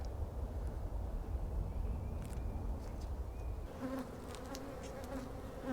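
Steady, dense buzzing of many honeybees around an open hive during a midsummer inspection, a continuous droning hum with individual bees passing louder now and then.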